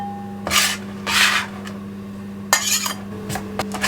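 Chopped parsley and coriander scraped and tipped into a bowl: a few short, bright scraping swishes and light clatters against the bowl, close and moderately loud over a faint steady hum.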